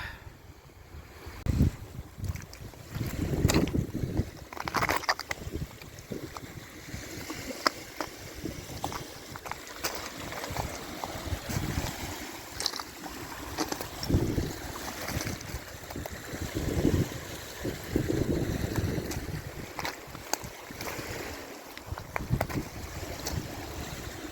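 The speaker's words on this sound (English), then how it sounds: "that wind is cold" Cold wind blowing at a beach in a park, buffeting the microphone in continuous gusty rumbles with a faint wash of surf behind, steady and fairly loud throughout.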